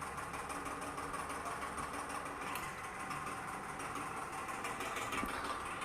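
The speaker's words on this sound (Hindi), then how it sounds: "और ये पंखा ना अभी अभी बहुत ऐसे आवाज़ करने लगा, खड़खड़।" An electric fan in a home kitchen runs with a steady mechanical rattle and hum, a continuous, moderately faint clatter with no talking over it.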